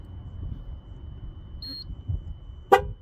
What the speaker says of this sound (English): once the first sensor is programmed, you'll hear a beep